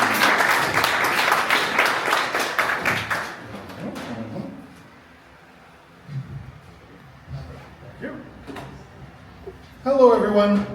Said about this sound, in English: Give applause for Nathan and his product Reggie.